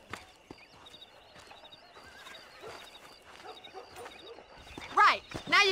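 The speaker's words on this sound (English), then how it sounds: "Let's see if we can't wrangle some horses" Horses whinny loudly near the end over scattered hoof clops and background rumble in Red Dead Redemption, with game-like ambient tones throughout.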